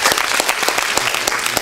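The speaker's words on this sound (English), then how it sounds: "thanks for your kind applause" Dense applause from an audience at a university parliamentary debate, greeting a speaker taking the floor; steady, close, broadband clapping with sharp individual claps standing out, filling the moment alone.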